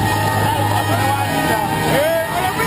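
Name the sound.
crowd cheering a surfer at a river wave event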